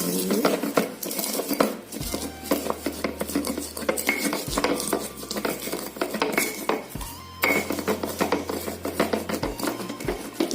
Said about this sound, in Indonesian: kita ulek dulu, kacangnya terlebih dahulu